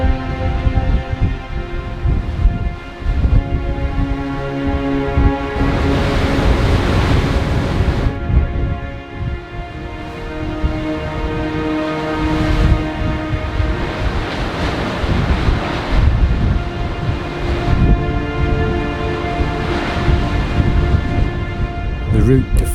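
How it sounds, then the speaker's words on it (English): Heavy surf crashes against rocks continuously off Sea Lion Island in the Falklands, a loud broadband roar with wind buffeting the microphone and no clear talking. "the swell is deep, and the waves powerful as it crashes against the rocks"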